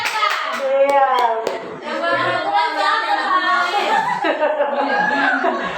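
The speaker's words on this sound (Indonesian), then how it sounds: "Tepuk tangan Pak Putra" A burst of clapping from a group of people gathered in a school meeting, mixed with chatter, chuckles and children's voices, steady and moderately loud throughout.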